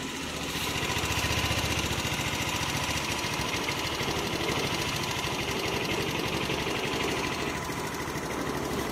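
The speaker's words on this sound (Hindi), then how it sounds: "मैं आपको इस बार एग्जॉस्ट साउंड सुना दूँ इसका एक बार" A 2006 Honda Activa scooter engine idles steadily throughout, a constant low putter with a buzzing, slightly rattly texture and no speech.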